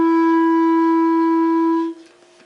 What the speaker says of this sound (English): you can either just take away the back tone hole, like your thumb away from the back tone hole